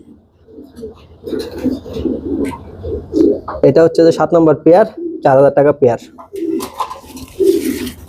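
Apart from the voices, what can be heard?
pigeons cooing, Lahori and Sirazi pigeons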